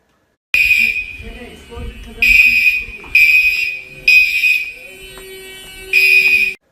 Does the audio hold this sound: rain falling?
no